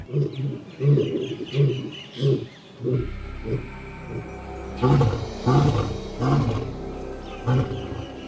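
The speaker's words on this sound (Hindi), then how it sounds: "एक शेर की दहाड़ सबसे बड़ी होती है" Deep lion roars ring out close and loud, followed by a rhythmic series of shorter grunting calls, with faint bird chirps in the background and no speech.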